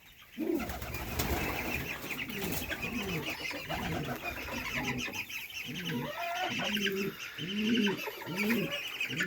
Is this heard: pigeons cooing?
yes